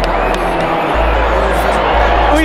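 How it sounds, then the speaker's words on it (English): Crowd cheering and whooping at an event, loud and close throughout, with voices talking over the noise. "And they clapping for us"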